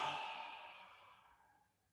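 A person yawns once, a single drawn-out breathy exhale that is close and clear at first and slowly fades away over about two seconds, with no talking.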